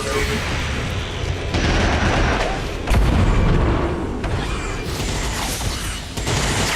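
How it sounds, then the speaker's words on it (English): Alien gunfire aimed at a sniper in the XCOM strategy game: dense, continuous bursts of shooting and booming impacts mixed with mechanical game effects, loud throughout with a sharper surge near the middle. "And this guy's going to shoot at our sniper."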